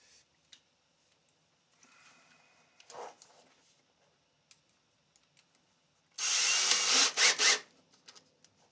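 A power drill bores little pilot holes in guitar wood, with faint handling noises first, then one loud whirring burst near the end that drops out briefly partway through.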